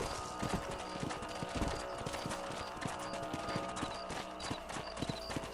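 Horse hooves clip-clopping in the video game Red Dead Redemption during a ranch patrol, a steady rhythmic trot of many rapid hoof strikes, moderately close, with faint ambient background and no talk.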